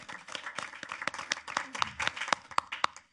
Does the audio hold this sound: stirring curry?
no